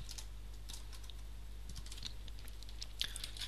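Quick, light clicks of typing on a computer keyboard patter in an irregular rhythm over a low steady hum, faint and close.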